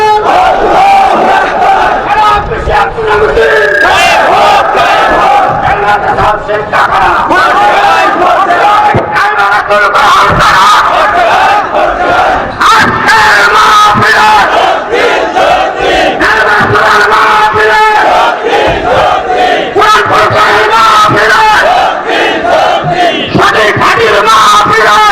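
A large crowd at a Bangla waz sermon chants slogans in unison, loud and continuous, with rhythmic shouted phrases rising and falling throughout.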